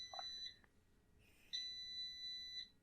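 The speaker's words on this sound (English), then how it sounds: "Oh, you hear that beep?" An electronic beep sounds in short, faint, high tones repeated at intervals over a quiet background, with no speech.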